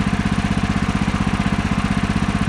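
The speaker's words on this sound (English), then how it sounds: "It gave me a good reading there as it was idling" A Woodland Mills sawmill engine idles steadily close by, a loud, even chugging putter with a regular rapid pulse and no talking.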